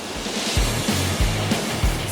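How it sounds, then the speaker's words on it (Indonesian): Big ocean waves at the Woro surf spot off Bima, breaking about 200 meters from the shore, come through as a steady low roar with repeated rumbling surges about every half second to second. "Spot surfing ini berjarak sekitar 200 meter dari bibir pantai dengan karakter ombaknya yang besar"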